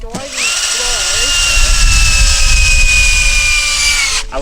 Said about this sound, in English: We're going to drill a hole 3 feet down in the soil that the probe can fit right into.